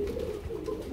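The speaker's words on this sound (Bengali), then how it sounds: "যারা ডাকাডাকি শুনতে পছন্দ করেন, কুকা কবুতর নিতে চান" Low, steady cooing from a male kuka pigeon held by a pigeon seller, a soft continuous murmur throughout with no talk over it.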